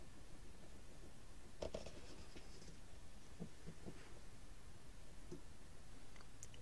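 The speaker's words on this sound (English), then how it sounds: "I'll now put a mark with our pencil into this tube." A pencil marking a tube for a homemade crossbow, faint scratchy strokes and small ticks against a quiet background, heard alone.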